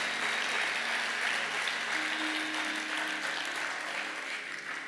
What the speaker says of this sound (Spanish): Si le va a dar palmas al Señor, désela a Él con fuerza